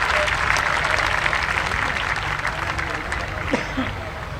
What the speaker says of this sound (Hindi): एक बार इन युवा उभरते हुए खिलाड़ियों को जोरदार तालियों के साथ इनका स्वागत,